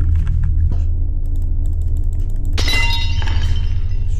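A statue breaks during a scare prank, with a sharp crack and shatter partway through followed by a ringing clatter of fragments over a steady low rumble.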